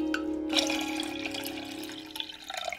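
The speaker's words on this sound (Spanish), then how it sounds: "Añadimos unas 3 tazas de agua a un caldero." Water poured into a cooking pot for spiced chai, a continuous splashing trickle with a brief louder splash early on, fairly close and moderately quiet, tapering off toward the end.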